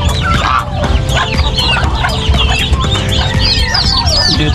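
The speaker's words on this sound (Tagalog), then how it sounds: "pabo dito na may sisiw" Poultry pen where a turkey sits with about ten chicks, with continuous clucking and chirping from several birds close by, layered busy calls with no talk.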